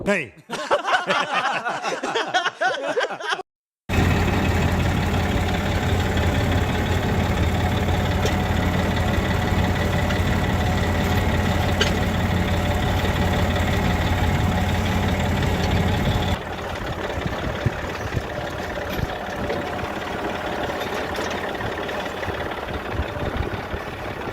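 A tractor engine idles on a village farm, a steady low diesel rumble running continuously after a few seconds of speech at the start, with a slight drop in level partway through.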